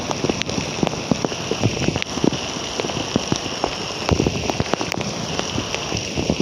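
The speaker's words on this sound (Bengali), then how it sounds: "বাইরে অনেক বৃষ্টি," Heavy rain falls across Dhaka in a constant, full-bodied roar, punctuated by scattered nearby drop hits and splashes of varying strength throughout, with no talking.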